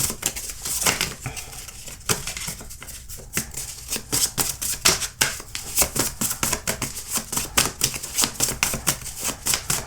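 A tarot deck being shuffled and cards drawn, producing a dense stream of crisp riffling and snapping card sounds. The sounds grow into quick, rhythmic flicks toward the end, with no talking over them.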